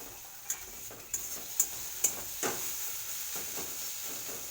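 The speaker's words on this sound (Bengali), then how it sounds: "মশলাটাকে কষিয়ে নেব আর একটুখানি লবণ আর হলুদ অ্যাড করে দেবো" Spices frying with salt and turmeric in oil for a fish oil curry, a soft steady sizzle marked by a few sharp ticks of a utensil scraping the pan, quiet and close.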